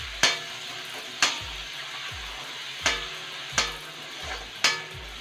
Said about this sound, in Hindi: अब मैं इसके अंदर टमाटर डालूंगी। टमाटर को ज़्यादा नहीं पकाना,